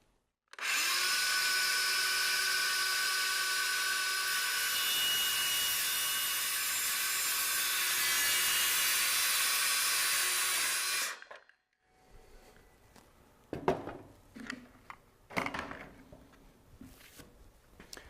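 A power tool cuts a vinyl fence holder in one steady, loud, high-pitched whine lasting about ten seconds, then stops, followed by quieter handling clatter and a few knocks.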